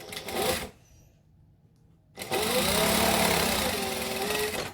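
A sewing machine stitches fabric in two close, loud buzzing runs, a short run and then a longer one, separated by a brief quiet pause.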